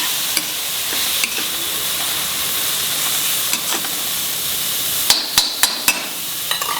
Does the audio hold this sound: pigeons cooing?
no